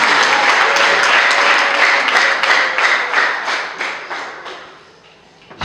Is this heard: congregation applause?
yes